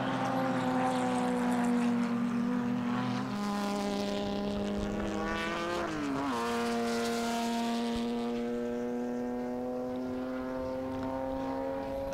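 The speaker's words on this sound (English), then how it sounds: "And we know that the Jaguar engine in the list has got the power to overtake down, as you suggested, Marcus, hangar straight." Classic racing cars, a Cooper Bristol and a Jaguar, race at Silverstone, with a sustained loud engine drone whose pitch dips and shifts around the six-second mark as a car passes through Copse Corner, continuing steady and close throughout.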